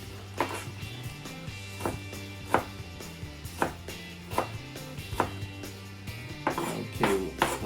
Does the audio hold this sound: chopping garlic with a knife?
yes